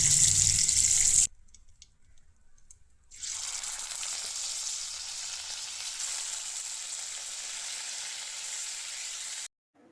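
Fish frying in hot oil in a kadai with a little salt, a steady bright sizzle that starts abruptly after a quiet gap and holds evenly before cutting off, no talking.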